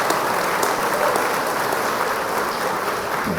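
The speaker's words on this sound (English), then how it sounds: "a big round of applause for Ana" A business audience at a Chamber of Commerce meeting claps in sustained, loud applause, a dense even wash of many hands that holds steady throughout without any voices.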